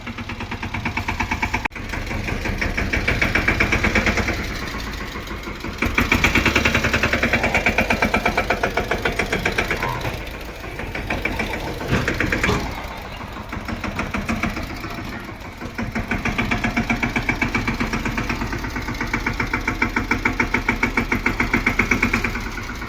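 A tractor engine chugs steadily for a long stretch, its rapid knocking putter rising and dipping slightly in loudness, with no voices.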